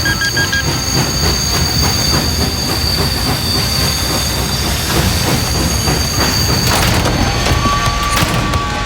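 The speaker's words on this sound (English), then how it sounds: "Slow the train!" A train rolls along in the video game Party Animals, with a steady loud rumble, rhythmic wheel clatter and thin high squealing tones that swell near the end. No one speaks.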